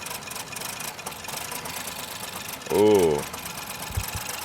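A Ford Focus 1.0 EcoBoost engine with a throttle fault idles and misfires, a steady uneven running hum with a brief louder rev swell near the middle and a couple of short knocks after, with a voice briefly exclaiming.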